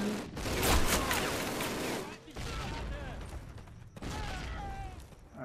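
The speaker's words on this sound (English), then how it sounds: "I'm just gonna throw a grenade in there." A grenade thrown and exploding in the video game Call of Duty, set among heavy gunfire: loud bursts of shots and blasts break off twice, with faint talk beneath the combat.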